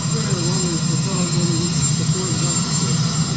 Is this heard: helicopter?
yes